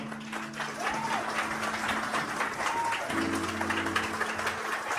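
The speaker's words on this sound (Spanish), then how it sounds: "Yo creo que ese aplauso para el Espíritu Santo fue pequeño." A church congregation applauds during a Spanish-language worship service, soft and fairly distant clapping spread evenly across the clip, with faint sustained tones and background voices mixed in.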